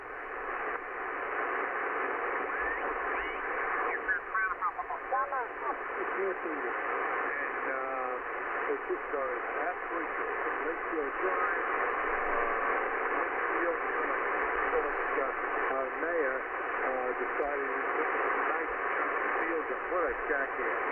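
A Yaesu FTdx-10 HF ham radio receiver hisses with steady band static, and warbling, faint voice-like signals drift through the noise for the whole stretch without pause.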